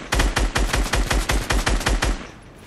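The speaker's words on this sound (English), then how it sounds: "I'm gonna shoot these trees out." Rapid automatic gunfire in a video game, a steady burst of about a dozen sharp, loud, evenly spaced shots aimed at trees, ending abruptly and fading into a short tail.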